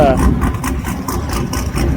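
A deep, rumbling Ford Mustang exhaust idles loudly and steadily up close, with a faint voice underneath.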